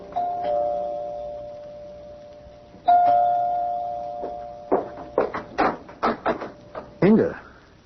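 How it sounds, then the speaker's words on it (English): A doorbell chimes in a radio drama, two sustained ding-dong tones ringing out clearly, followed by a run of sharp, evenly spaced knocks or door thumps. "You can ring the doorbell."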